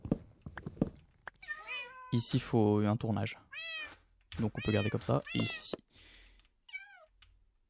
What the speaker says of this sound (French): les chats sont horribles.